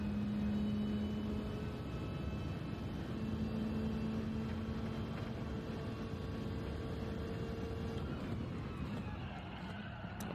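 Racing car engine in Gran Turismo 7, a steady droning rumble with tonal whine shifting in pitch, continuous and moderately quiet over about ten seconds.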